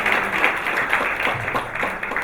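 Audience applause for a guest speaker at an annual law conference in Nigeria in May 2019, a brief burst of dense crowd clapping in a hall, steady and moderately loud throughout.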